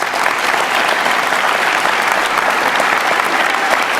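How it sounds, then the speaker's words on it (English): Loud, continuous applause from the audience at a college awards convocation, honouring a staff member, dense and even from start to finish. "Let's give Ken a big round of applause."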